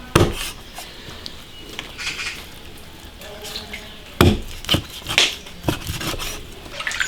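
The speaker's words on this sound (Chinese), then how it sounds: "把猪脚剁下。" A cleaver chops pig trotters hard several times in a quick uneven burst, each sharp knock landing on a wooden board, with quieter clinks and scrapes before it.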